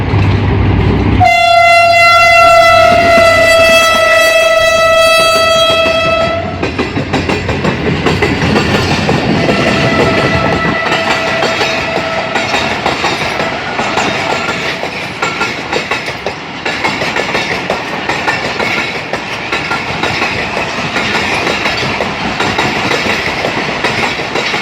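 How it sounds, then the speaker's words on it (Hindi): An express train on a Pakistan railway line passes close by, opening with a long, loud horn blast and then a steady roar with rhythmic clickety-clack from the wagons for over twenty seconds, with no talk. "कोई एक्सप्रेस होगा, बड़ा पंजाब से आता होगा।"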